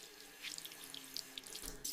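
Running tap water during hand washing, a steady faint splashing stream with a few brighter spatters, heard alone without voices.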